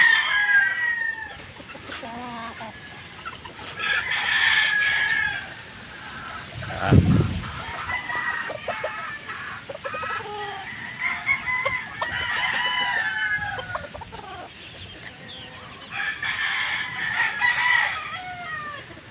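Pet chickens and small chicks cluck and chirp in a coop, with repeated close clucks and high peeps and one loud burst of calling midway, continuing through the whole stretch with no talk.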